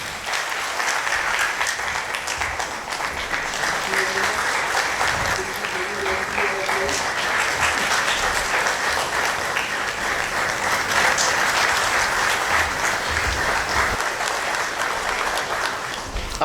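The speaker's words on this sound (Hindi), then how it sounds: "तालियां बजनी चाहिए साथ में।" Audience applause at a live Bharat Lok Rang folk festival performance, steady and loud clapping throughout with no break.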